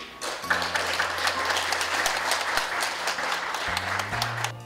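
An audience applauds to welcome a professor giving a special lecture on ancient Baekje and Later Baekje history, a dense, steady wash of clapping lasting several seconds at moderate loudness, with a low steady hum beneath.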